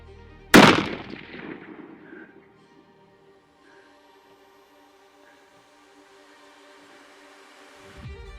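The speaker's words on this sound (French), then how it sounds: "je vais rester visé ici et essayer de faire sortir le tir dans une zone dégagée" .223 rifle shot fired at long range, one sharp loud crack followed by a decaying rumble and faint echoes, then near silence, with a brief thump at the end.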